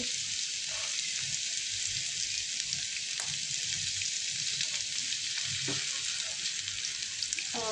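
Green chillies sizzle in a pan over lowered gas alongside crushed ginger and garlic for homemade paneer chilli, a steady close frying hiss with a few faint clicks and stirs throughout.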